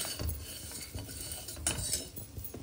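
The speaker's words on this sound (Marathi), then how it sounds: "छान परतून घेणार ढवळून" A spoon scrapes and clinks against a pan while masala rice seasoned with goda masala, salt and sugar is stirred and sautéed in oil, repeated close strokes over a faint sizzle.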